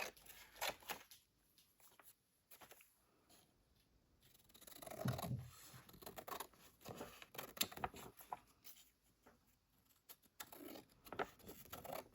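Scissors cutting around paper for a junk journal lap book cover, with soft, close snips and rustling paper scratches coming in irregular bursts in a quiet room.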